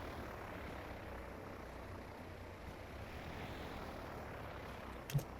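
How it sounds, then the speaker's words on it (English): A propeller airplane takes off in the transport simulation game Transport Fever 2 in a 1930s setting, a faint, steady engine drone with a brief click near the end. "Let's watch our airplane zip out of here."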